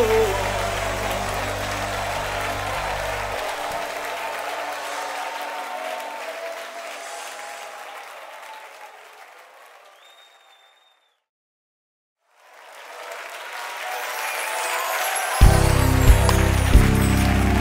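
Congregation applauding during a church worship service, a dense steady roar of clapping that gradually fades out to near silence, then resumes loudly with music entering.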